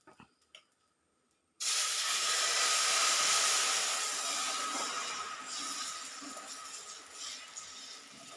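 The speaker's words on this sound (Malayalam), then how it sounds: "ഇനി മാവ് കോരി ഒഴിച്ചു കൊടുക്കാം" Wheat dosa batter hits a hot griddle with a sudden loud sizzle after a few quiet clicks, then keeps hissing steadily and fades gradually.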